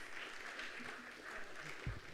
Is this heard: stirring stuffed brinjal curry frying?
no